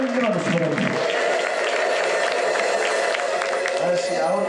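Applause from a church congregation at an Ethiopian Amharic sermon: dense, steady clapping that fills the whole stretch, with a voice and crowd noise mixed in.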